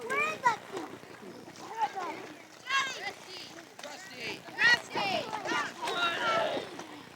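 Children wading slowly into the water at a beach, with scattered splashes mixed under lively, chattering young voices throughout.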